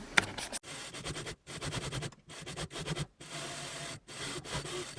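A sewing machine runs along a fabric seam at a quarter-inch allowance, its needle clattering in several steady bursts separated by brief pauses, close and moderately loud with no talk.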